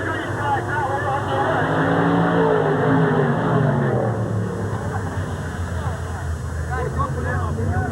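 Race cars roar along the back straightaway at Sandusky Speedway in 1986, a dense, continuous engine drone with overlapping pitches from several cars, steady and fairly loud with a public-address voice talking over it.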